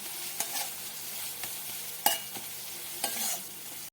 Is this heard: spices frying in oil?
yes